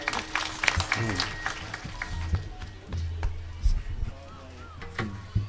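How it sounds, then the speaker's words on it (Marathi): Audience clapping at a devotional kirtan gathering on Gorakshanath hill, a scattered burst of hand claps from a crowd mixed with voices talking over it. "टाळ्या वाजा यांच्यासाठी एकदा."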